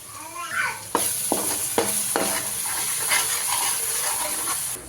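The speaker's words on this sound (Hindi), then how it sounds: "और यहाँ देखो हमारी हरी मिर्च फ्राई हो गई।" Onions, green chili and garlic frying in a pan in a home kitchen give a steady sizzle with hissing steam, and several sharp clinks and scrapes from stirring cut through it.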